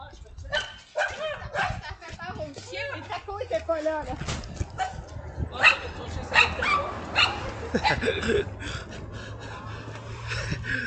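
Small poodles yap and bark in quick, high bursts with some whimpers, fairly close and intermittent, while someone talks over and between the barks.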